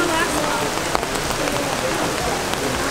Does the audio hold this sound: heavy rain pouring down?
yes